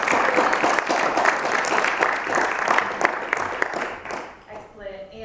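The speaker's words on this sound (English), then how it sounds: "If we could have a round of applause for the panelists." Audience applause for panelists at a university film screening Q&A, a dense round of clapping filling the room for several seconds before thinning out and fading at the end.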